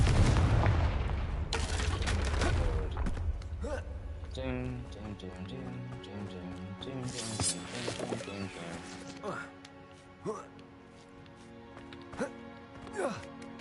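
Confringo fire spell from Hogwarts Legacy going off as a heavy, booming blast near the start, then fading into a game music score.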